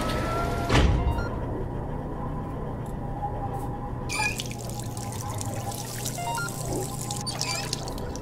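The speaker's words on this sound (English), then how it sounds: "Let's begin with heating some water using a kettle" A kettle is filled with water in the video game Job Simulator, a thin pouring trickle with drips running steadily throughout, and a brighter splashing stretch in the second half, with no talk.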